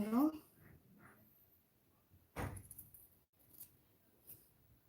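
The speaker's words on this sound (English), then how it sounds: "Cut these flaps off." Scissors cut small flaps off fabric craft ears for Disney-inspired Christmas ears, with a few quiet, separate snips between pauses in a calm indoor space.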